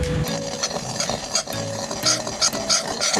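Spoon stirring a thick suji and ghee mixture in a pan, with steady scraping strokes and soft sizzling, occasional utensil clinks against the metal, close and continuous.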